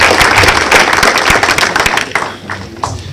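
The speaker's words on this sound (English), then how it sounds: "How about a round of applause?" Applause after a talk at a tech conference session on mobile self-tracking, loud, close clapping that is dense at first and thins into scattered individual claps toward the end.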